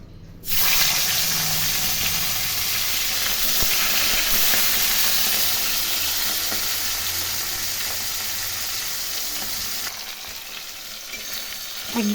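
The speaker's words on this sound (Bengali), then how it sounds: "এখানে রুই মাছের পিস ভেজে নিচ্ছি" Rohu fish pieces fry in hot oil in a pan for a Bengali fish curry, giving a loud, close, continuous sizzle that starts suddenly and holds steady, easing slightly near the end.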